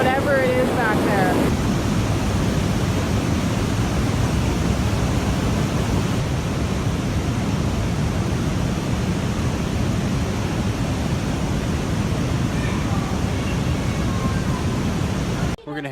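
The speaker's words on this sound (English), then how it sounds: "There's so much water falling down to that crevice, canyon, whatever it is back there." Loud, steady roar of water pouring into the narrow canyon at Box Canyon Falls, a dense unbroken rush filling the whole span, close and overwhelming, with a brief muffled shift near the end.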